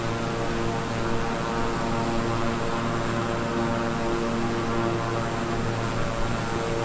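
Twin-engine propellers of a King Air 350i at partial throttle in Microsoft Flight Simulator, a steady droning hum with strong tonal harmonics, constant and unbroken.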